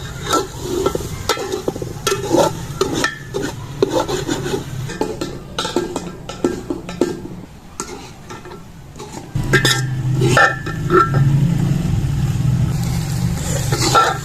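Potato and cauliflower being stir-fried in a pan, a spatula scraping and knocking against the metal in an uneven rhythm, with a low sizzle that grows louder toward the end, close and without speech.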